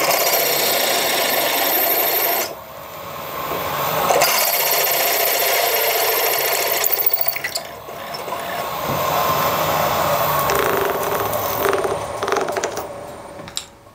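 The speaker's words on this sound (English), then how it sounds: "See the difference between a sharp drill and a blunt drill?" A sharp drill bores into stainless steel, a loud close whirring grind that runs in long bursts with brief pauses between them, no voices over it.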